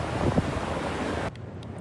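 Ocean surf rolls onto a California beach where Sugar, a 16-year-old surfing dog, rides the waves: a steady, wind-buffeted broadband rush that drops abruptly to a softer hiss near the end, with no voices.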